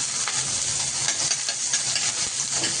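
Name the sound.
onion sautéing in a pan with green chilli and garlic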